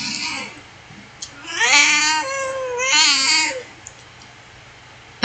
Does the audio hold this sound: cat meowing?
yes